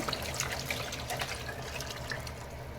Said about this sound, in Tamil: ரச தண்ணியை ஊற்றிக்கலாங்க.